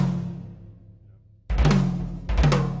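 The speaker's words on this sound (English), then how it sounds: "And I usually use right left, you know, like an open flam on the toms or somewhere else." A drummer plays an accent as an open flam on the toms with the bass drum. A fading low ring leads into a short gap, then two loud, close, booming hits land about a second apart.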